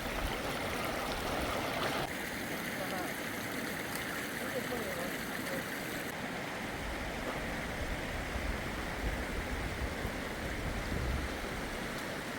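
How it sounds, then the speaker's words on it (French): A small stream flows beside a cave entrance in New Zealand, a continuous close rushing and babbling of water that stays steady throughout, with a voice faintly under it. "On est sur le bord d'un beau petit ruisseau."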